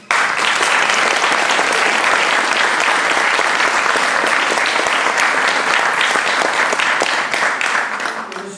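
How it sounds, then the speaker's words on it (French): Sustained, loud audience applause fills a hall after a courtroom-style oratory contest at a law-night event, dense clapping from start to finish before tapering slightly at the end. "Je vous prie d'applaudir une nouvelle fois M."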